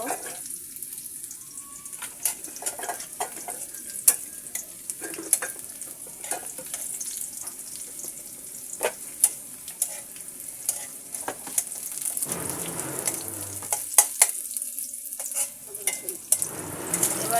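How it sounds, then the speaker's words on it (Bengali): Chopped onion and garlic frying in a pan until browned, a soft steady sizzle broken by sharp utensil clicks and taps, with a brief burst of running water near the end. "পেঁয়াজ এবং রসুন কুচি আমি সুন্দর করে ব্রাউন কালার করে ভেজে নেব"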